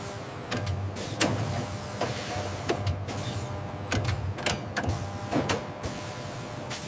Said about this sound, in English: The crimping machine forms a mechanically secure and leak-resistant seal, ensuring the integrity of the battery before the heat shrink application